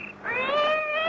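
A cat yowls once in a drawn-out, rising cry, close and clear, a sound effect in a 1953 radio mystery drama.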